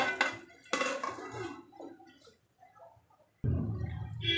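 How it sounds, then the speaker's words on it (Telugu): A metal lid set onto a cooking pan on the stove during prawn frying, a few clattering metallic knocks at the start and a heavier clank near the end, close and fairly loud with quiet gaps between. "నేను మూత పెడతాను."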